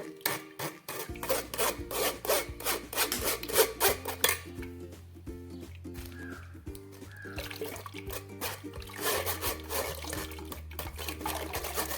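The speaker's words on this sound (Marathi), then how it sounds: "पूर्ण ह्याच्यातला असा गर असा काढून घ्यायचा आहे चमच्याच्या साहाय्याने." A spoon scrapes soaked tamarind pulp through a strainer, producing repeated rhythmic rubbing and rasping strokes, close and moderately quiet, with a faint low background tone beneath.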